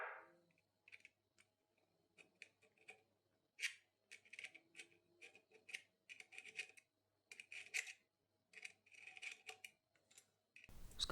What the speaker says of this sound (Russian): несильными ударами молотка по ручке отвертки откручиваем кольцо